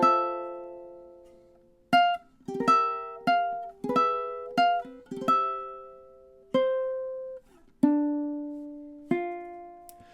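Ukulele picks through measures 3 and 4 of a song, a run of a dozen plucked notes and chords, quick at first and then slowing to a few longer ringing strums, played alone and close.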